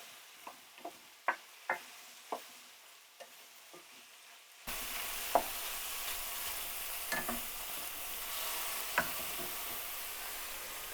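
Vegetables hit hot extra virgin olive oil in a pan: a few clicks and taps at first, then a sudden loud steady sizzle with occasional utensil clinks as they are stirred, no voices.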